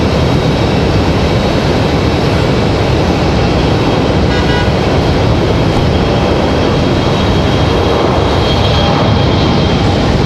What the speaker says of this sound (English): An American 737-800 touching down.